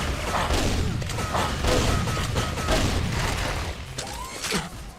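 Shotgun blasts in Quake 3 played in VR with a CPMA fixed spread pattern, a dense run of loud booming shots and mechanical clatter packed close together, with a brief quieter gap near the end.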